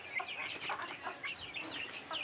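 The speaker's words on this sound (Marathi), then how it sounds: "हे पिल्ले आहेत" Young chicks from a small poultry flock peep and chirp continuously, a dense high-pitched chatter of many birds at moderate distance with no talk.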